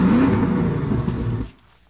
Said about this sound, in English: Need a Ford 5-liter V8?